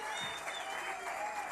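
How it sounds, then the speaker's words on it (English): Continuous applause from an audience at a Botswana women's sports awards ceremony fills the moment, a steady dense clatter of clapping hands with crowd noise beneath it, honouring a woman elected to the Confederation of African Cycling management committee. "Can we give a round of applause for Memombe?"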